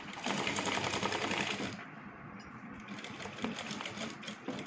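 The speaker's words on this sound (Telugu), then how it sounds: "ఇటువైపు ఒక లైన్ కుట్టాం కదా, సేమ్ అలాగే మళ్ళీ ఇటువైపు కూడా" A sewing machine runs a line of stitches along fabric strips, a fast, even mechanical whirring and ticking close by that briefly slows and softens before continuing.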